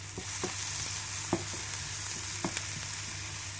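Ingredients sauté lightly in a pan with a soft, continuous sizzle over a low hum, broken by a few quiet scraping stirs; no one speaks.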